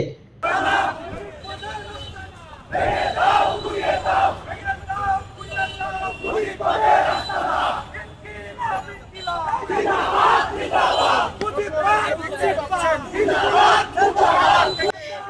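An agitated student crowd chants political slogans at Dhanmondi 32 in Dhaka amid vandalism and burning. Loud, rhythmic bursts of many voices shouting in unison rise and fall in waves, with short pauses between chants.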